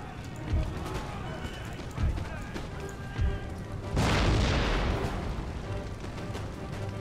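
Incoming quicklime artillery shells in Empire: Total War land with a heavy, spreading crash near the middle, after several earlier dull booms over a constant battlefield bustle, with voices talking throughout.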